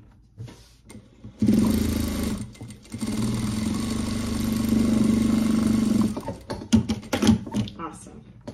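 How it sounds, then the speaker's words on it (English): A sewing machine top stitches a white bag, running in a steady hum for several seconds with brief pauses and handling noises at the start and end. "So now I'm going to top stitch this."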